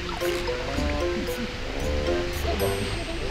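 River water rushes steadily past at the Shiriyaki hot spring in Gunma, where the warm river itself forms the bath. The roar is continuous and close, with faint voices beneath it.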